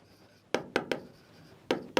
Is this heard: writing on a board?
yes